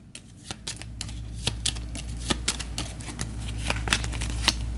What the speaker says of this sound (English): with another shuffle